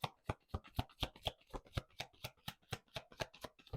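Shadowscapes Tarot cards shuffled by hand in a quick, even rhythm of about fifteen crisp close flicks over a few seconds, quiet and with no voice.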